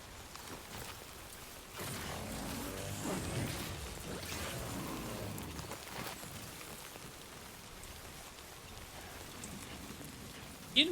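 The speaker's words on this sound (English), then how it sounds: "I decided to put all these zip lines up at night during the rain" Steady rain falls at night in the video game Death Stranding 2, a continuous hiss of drops on surfaces with a slightly heavier patch midway and a brief knock near the end.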